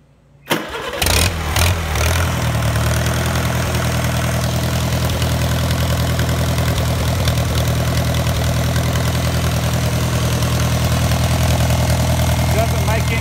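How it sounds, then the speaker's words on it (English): Engine cranking and catching after a brief quiet moment, then settling into a steady, loud running drone at half throttle with a strong low hum, continuous to the end, no talking. "So turn the switch on, start it up."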